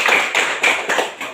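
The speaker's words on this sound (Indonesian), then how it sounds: "Tepuk tangan 100." A class of schoolchildren claps in a quick burst of four or five rhythmic beats, bright and close, with no talking over it.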